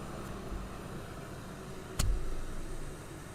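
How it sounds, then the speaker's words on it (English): A 2022 Western Star truck rolls down Main Street in a Memorial Day parade: a faint, steady low engine rumble under a hiss of background noise, with a brief sharp click partway through. "take a look at this truck coming down Main Street. It is the Jackson Township 2022 Western Star"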